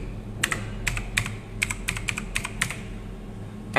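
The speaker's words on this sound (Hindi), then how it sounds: "फॉर एग्जाम्पल मैं एड्रेस टाइप करता हूँ" An email address is typed on a computer keyboard in a composed email: about ten crisp, close keystrokes in an uneven rhythm over a faint steady hum, with no speech.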